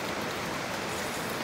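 Steady, dense rain hissing continuously on surfaces nearby, loud and even throughout with no other sounds.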